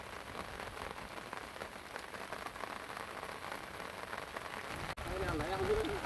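Steady rain pours over a boat on the Brahmaputra River during hilsa fishing, a dense continuous hiss that holds for the whole stretch, with a brief break and a faint voice near the end.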